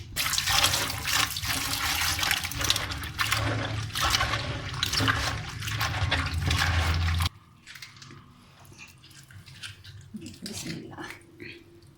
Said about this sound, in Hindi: इसको मैं 2-3 पानी धो के आती हूँ।